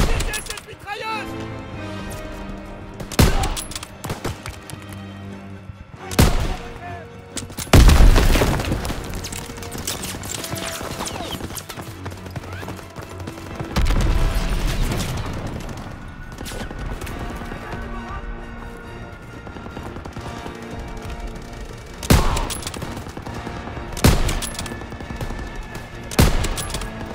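Gunfire and explosions from a Normandy beach landing in the video game Call of Duty WWII, with sharp bursts and booms scattered over a dense battle din, mixed with music and shouted voices.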